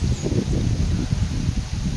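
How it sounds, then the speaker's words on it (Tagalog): Gusty wind moves through coconut palms in midday sun, a low blustery rumble buffeting the microphone with soft rustling of fronds, steady and close with no voices. "mahangin pa rin dahil sa marami yung mga niyog na nagdadala ng hangin."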